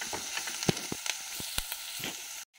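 Chopped garlic sautéing in hot oil, a soft steady sizzle with scattered pops and spatters, a few light stirring clicks, cutting off abruptly at the end.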